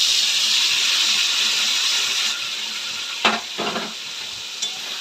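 Potatoes seasoned with spice powder and salt sizzle steadily in a pan, giving a bright, continuous frying hiss, followed by a few short scraping stirs near the end.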